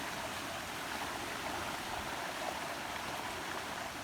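A river flows steadily beside a stealth campsite on the Long Trail, a constant close rush of water with no voices, even and unbroken throughout.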